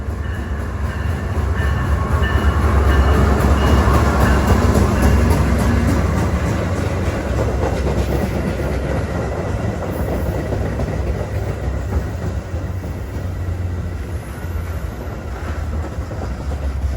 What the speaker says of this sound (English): UP West train number 47 to Auburn is now arriving.